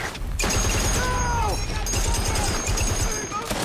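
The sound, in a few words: machine gun fire in The Pacific episode 8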